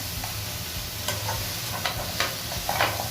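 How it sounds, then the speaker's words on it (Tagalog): Sliced chicken sautés in a pan for a chicken and asparagus dish, a constant soft sizzle with a few brief scraping stirs and clinks, close by and without talking. "Then lagay na natin ang chicken na ni-slice natin. Then saute na natin mga guys."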